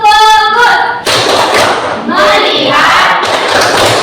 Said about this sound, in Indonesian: Oke, sekarang kita tepuk fokus ya.